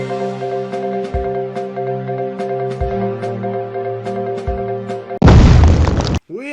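An explosion sound effect, a sudden loud booming burst after a sustained tonal musical chime, abruptly cut off, followed by a short swooping tone.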